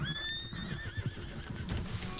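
A horse in the video game Red Dead Online whinnies in a long, wavering neigh with hoof clip-clops underneath, moderately close and with no talk over it.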